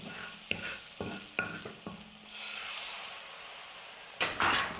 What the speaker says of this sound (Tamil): ஸ்டவ்வை கொஞ்சம் மீடியம் ஃப்ளேமில் வச்சுக்கிட்டு முட்டையை நல்லா வேக வச்சு எடுத்துக்கலாம்.